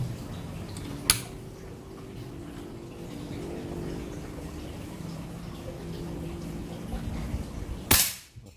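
Two sharp, close cracks from a PCP mini bullpup air rifle, one early and one near the end, over a low steady hum.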